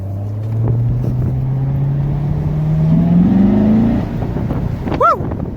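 A Chevrolet Corvette C7 V8 engine pulls hard, its note climbing steadily in pitch as the car accelerates, loud and close, before a brief change near the end.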